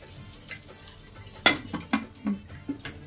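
Masala spices hit a pan of hot oil and ghee for mint rice, sizzling softly while a spoon stirs and scrapes against the metal, with a sharp clack followed by several lighter knocks and taps.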